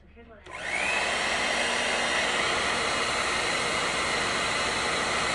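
A Pattern Beauty blow dryer switches on with its heat setting, rising within a second into a loud, steady, close whooshing roar of fan and airflow that holds unbroken to the end.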